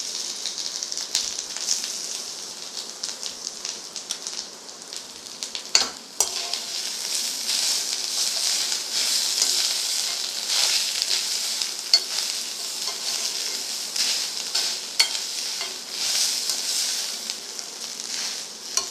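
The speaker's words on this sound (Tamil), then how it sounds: "இப்போ தேங்காயும் இதிலேயே போட்டு நான் வறுக்கிறேன்" Grated coconut roasting in a dry pan along with chana dal, coriander seeds and dried red chilies, giving a continuous crackling sizzle with frequent stirring scrapes and a few sharp knocks.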